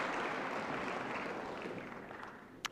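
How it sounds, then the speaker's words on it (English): A conference audience applauds in a dense wash of clapping that gradually fades toward the end, capped by one sharp isolated clap. "round of applause for Dofan"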